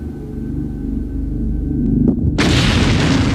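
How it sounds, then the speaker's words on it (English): A bomb blast in an aircraft luggage test bursts out suddenly after a low rumbling build-up, a loud broadband explosion that keeps roaring as a sustained blast noise to the end. "could glare even stand up to terrorist attack, like these bomb explosions?"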